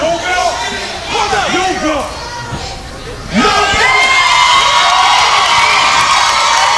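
A pro wrestling crowd at a PCW Limelight show cheers and shouts loudly, swelling into a sustained roar with whoops and yells, while a commentator talks over it.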